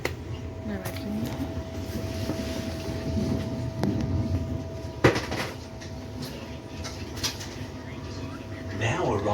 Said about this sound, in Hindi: मेट्रो चल पड़ी है।